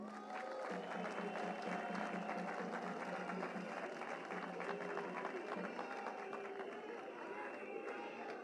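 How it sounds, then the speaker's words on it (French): Crowd applause at a political address by a party leader, a dense, steady wash of clapping and crowd noise with some voices mixed in, lasting throughout at a moderate distance. "que je vous demande d'applaudir"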